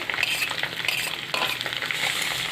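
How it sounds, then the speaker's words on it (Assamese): Green chillies frying in a pan with oil, a dense continuous sizzle with occasional stirring scrapes, close and fairly loud with no talk. "তাৰপিছত জলকীয়াখিনিও দি পেলাই এতিয়াই ভাজি দিওঁ"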